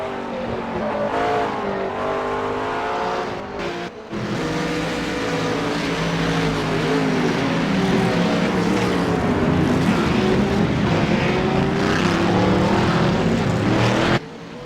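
GT race cars lap Spa-Francorchamps in a racing simulator game, a continuous loud engine drone with shifting pitch as the cars circulate, briefly dipping near the four-second mark.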